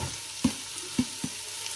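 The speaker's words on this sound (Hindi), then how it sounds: "ते हुण असीं अपनियां गाजरां फ्राई करांगे" Carrots frying in hot oil, a soft steady sizzle broken by three sharp stirring knocks or spatters at regular intervals, close by with no voices.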